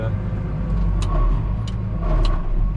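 A tractor engine driving a straw baler rumbles and revs in short rising bursts, a busy mechanical roar with faint background noise.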